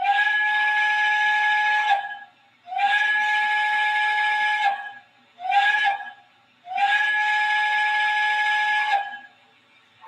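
A model train sound system plays its crossing signal: four loud, tonal whistle-like blasts, three long and one short, with clean gaps of silence between them.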